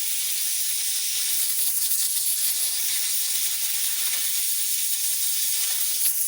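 Compressed air hisses in a steady, close blast while blowing out a part from an Echo CS2511T chainsaw that was not oiling, a continuous bright rush with no pauses.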